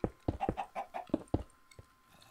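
Chicken clucking in the video game Minecraft: a quick run of short, close clucks in an uneven rhythm that trails off into a few fainter ones.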